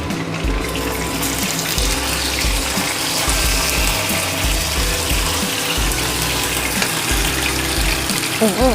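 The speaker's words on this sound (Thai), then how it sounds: "เอาพริกแกงลงไปผัดนี่นี่นะจ๊ะ" Yellow curry paste stir-fried in a pan for a crispy salmon dish makes a steady, close, rushing sizzle. The hiss carries on throughout, with uneven low clatter from the pan underneath.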